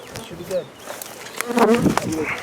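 A honey bee swarm being gathered back into old comb during a thunderstorm gives a steady, close insect buzz that drones throughout, with brief voice-like murmurs underneath.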